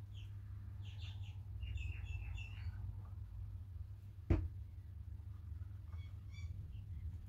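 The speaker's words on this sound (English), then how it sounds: "Birds are going to town over there." Several small birds chirp and tweet outside in short bursts, faint and some distance off, over a steady low indoor hum, with a single sharp knock partway through.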